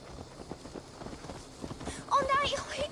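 Horse hooves clip-clop in a steady walking rhythm in the video game Assassin's Creed Valhalla, moderately close, with a voice speaking over the final stretch.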